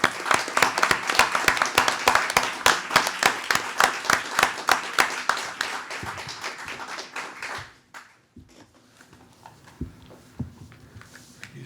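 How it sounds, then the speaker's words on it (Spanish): An audience at an award ceremony applauds in a dense, steady clapping that gradually fades out, leaving a quiet room with a few faint knocks and shuffles. "vamos a aplaudir al compañero"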